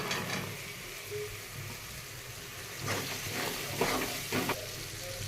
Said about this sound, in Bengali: এবার আমি কড়াইশুঁটিগুলো দিয়ে দেবো।